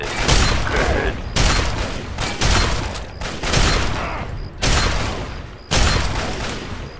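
Shotguns fire in Fallout 3 as a run of heavy, loud blasts, about six booming shots in an uneven rhythm, each trailing off before the next.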